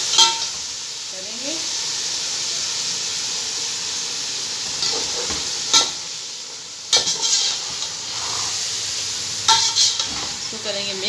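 Biryani being stirred in a pot over a steady steamy hiss, with a few sharp clinks and scrapes of the spoon against the vessel, close and fairly loud, with brief talk.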